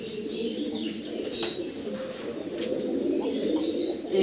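Fancy pigeons in a breeding loft in India give soft, low repeated coos at close range, with a few faint chirps and brief wing flutters over a quiet room background.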